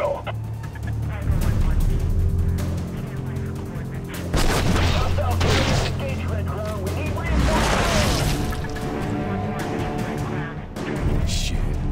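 Soldiers open fire in the Prototype 2 video game, with loud bursts of gunfire and booming shots over a steady backdrop of game music and effects, with a sharp surge near the middle.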